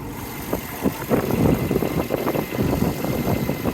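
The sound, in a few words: Subaru car engine idling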